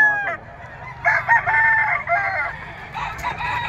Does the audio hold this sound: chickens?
yes